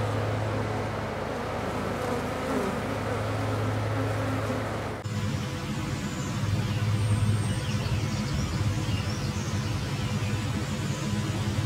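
Honey bees buzz steadily around outdoor hive colonies, a dense continuous drone that carries on throughout, with a broad outdoor background and no talking.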